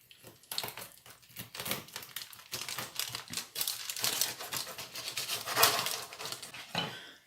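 A knife cuts through a tray of freshly baked, browned homemade breakfast bars, giving a run of close, crisp crunching and scraping strokes that come in irregular bursts with no talking.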